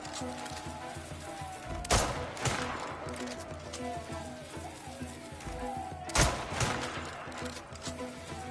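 Enemy sniper gunfire in the Crimson Desert video game: two sharp, loud shots about four seconds apart over a steady backdrop of game ambience and battle noise.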